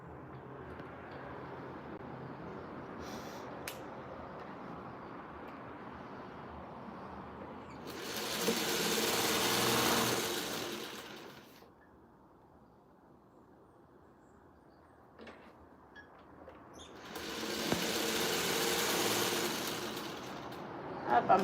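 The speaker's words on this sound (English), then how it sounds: "I'm sewing without thread." A vintage sewing machine runs without thread in two bursts of steady whirring stitching, each lasting a few seconds, separated by quiet room tone with faint background sounds.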